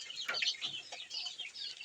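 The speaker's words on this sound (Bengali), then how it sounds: "এগুলো দেশি মুরগি" Native deshi chickens kept at home give soft, faint clucks and short chirpy calls, a few brief notes in quick succession with no talk over them.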